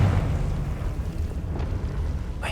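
A Confringo blasting spell explodes in Hogwarts Legacy, a loud, deep, rumbling blast that fills the moment and fades into a sustained roar with a sharp crackle at the end.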